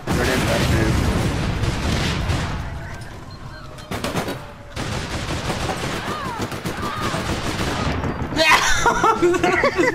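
Video game gunfire in APB Reloaded, bursts of rapid shots and crackling fusillades with brief pauses, with voices talking over the action.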